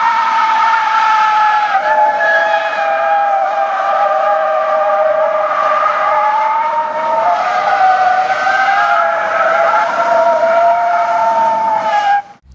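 Electric 2003 Ford Ranger conversion pickup driving on a road, a steady high electric motor whine with shifting tonal pitch running close and loud throughout, cutting off abruptly at the end.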